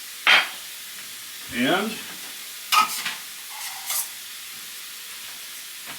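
Ground meat browning in a pan for American goulash, with intermittent stirring scrapes and clinks over a low, steady sizzle, close by; a brief spoken word slips in.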